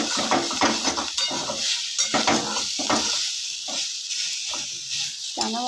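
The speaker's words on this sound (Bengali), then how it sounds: "এরপর মশলাটা ভালো করে কষা হয়েছে" Spice paste for Bengali spinach curry sizzles and is stirred in a pan, with repeated scraping strokes in an irregular rhythm, close and fairly loud, with brief talk between the strokes.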